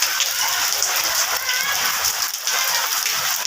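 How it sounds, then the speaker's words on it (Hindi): Heavy rain pours down and drips through a leaking roof, a dense, steady hiss of drops hitting surfaces, continuous and fairly loud with no speech. "यहाँ से भी बारिश आ रही है।"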